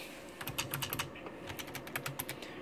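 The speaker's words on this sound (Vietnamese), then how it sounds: "Đấy, bàn phím cơ, đó là bàn phím cơ, cái tí bàn phím cơ nha" Typing on a Razer Ornata Chroma keyboard, a rapid irregular run of crisp key clicks and clacks heard up close, alone and without talk.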